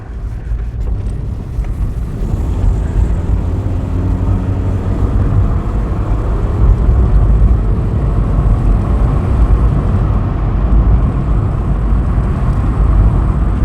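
A 1997 Toyota Corolla seventh-generation CDX accelerates on the road, its engine drone rising steadily under loud wind and road rumble, heard from inside the car with no talking.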